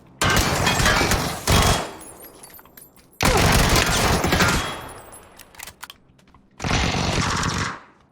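Three loud bursts of rapid shotgun fire in PUBG on the Taego map, each lasting about a second, separated by quieter gaps with faint clicks and shuffling.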